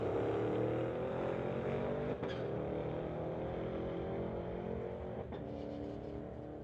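Drag strip race between a 2008 BMW and a 2007 Ford Shelby GT500, engines roaring loudly and steadily throughout, a sustained near run with no talk.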